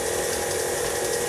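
An electric mixer beats chocolate cake batter, a steady dense mechanical whir with a rapid rattling texture, close and constant for the whole short stretch.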